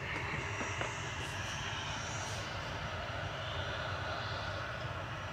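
An Airbus A380 at Manchester Airport starts engines three and four, giving a steady, faint, distant turbine roar that holds without pause.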